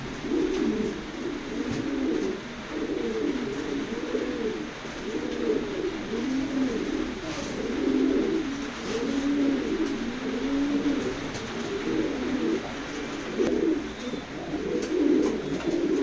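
Racing pigeons coo repeatedly in a loft, low rolling calls overlapping in a steady rhythm at close range, with faint rustling in the background.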